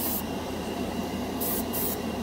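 A cheap $14 dual-action airbrush hissing steadily as it sprays paint, a continuous broadband spray noise with short bursts of brighter hiss near the end, close and alone.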